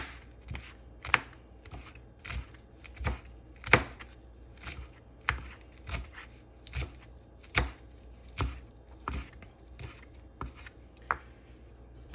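A knife slices through rolled oregano leaves on a cutting board, making a steady series of crisp, close chops at an even, unhurried rhythm with no talking.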